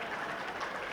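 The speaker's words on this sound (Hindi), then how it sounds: "तालियां बजाइए।" Audience clapping at a kavi sammelan poetry gathering in Ludhiana, a steady wash of many hands applauding together without pause, filling the room for a brief moment with no voices over it.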